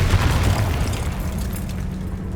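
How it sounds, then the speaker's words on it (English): A Confringo spell explosion in Hogwarts Legacy lands as a dense, rumbling blast with a sustained low roar that slowly tails off, loud and close, with no talk over it. "Confringo!"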